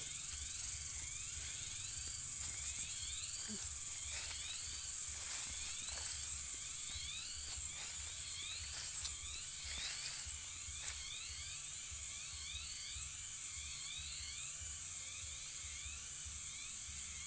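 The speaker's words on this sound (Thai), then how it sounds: "เสียงจักจั่นห้อง แบบ เพราะว่าอยู่หลังบ้านเนาะ" Cicadas buzz steadily behind a house beside a coffee garden, a dense, continuous high-pitched drone with pulsing, overlapping waves that stays fairly loud throughout, with no talking.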